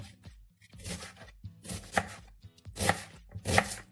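Knife chopping onion on a cutting board while preparing onions and mushrooms for an oven-baked pork neck dish: bursts of quick, crisp chops in several clusters, close and fairly loud, with no talking.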